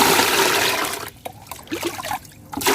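Rice-water fertilizer mixed with MSG poured onto wilted caladium plants: a strong gush of liquid for about a second, then softer trickles and dribbles that fade in and out.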